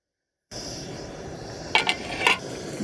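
A metal lid goes onto a pot of green chilli chicken leg-piece roast set over a low flame. Two or three quick, bright clanks and rattles sound close by over a steady kitchen hiss.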